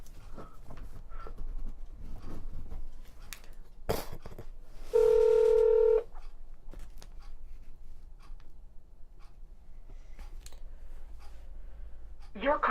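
Phone call being transferred on an office phone line: faint clicks, then a single steady tone lasting about a second, with speech around it.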